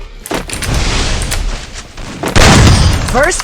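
Gunfire rings out in a shooting video game, with loud, heavy booming shots that blend into one another and grow louder toward the end, with no talking over them.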